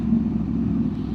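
A Kawasaki H2 motorcycle goes by close and loud, its engine a dense low rumble that stays steady for about a second.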